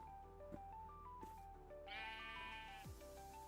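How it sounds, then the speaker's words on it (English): A sheep in Minecraft bleats over quiet game music: a wavering, tonal baa rises partway through and lasts about a second, with no talking. "Hey! Sheep!"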